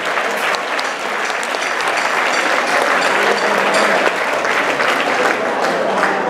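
Sustained applause for a singer at a dance-music show: a dense, loud crowd clapping steadily and evenly for the whole stretch, with no pause.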